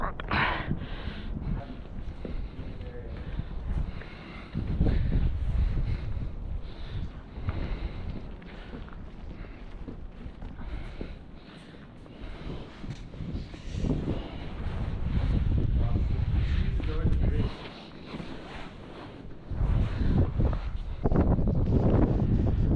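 Strong wind gusts buffet the microphone outdoors during a Buffalo blizzard, surging and easing in loud rumbling waves with brief lulls.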